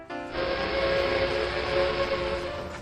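A double-engine train approaching Edmond, Oklahoma, sounds a loud steady whistle that sets in after a brief quiet start and holds for nearly three seconds over a hissing rail rumble.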